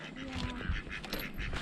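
Geese honk in a barnyard coop on a snowy day, a few short nasal calls close by, mixed with people talking over them.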